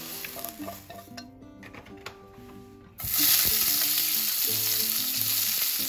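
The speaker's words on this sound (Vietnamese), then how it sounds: "Rồi củ hành của mình xào như thế này là được rồi ha." Sliced onion stir-frying in a pan for Korean japchae glass-noodle dish, a steady close sizzle with stirring scrapes, quieter at first then swelling loud and continuous after about three seconds.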